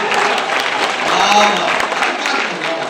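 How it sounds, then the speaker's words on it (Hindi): Audience applause at a poetry mushaira in Dubai, a steady, full wash of clapping from a large crowd that stays loud and even throughout, with faint voices mixed underneath. "जरा सा तालियां बजा दीजिए"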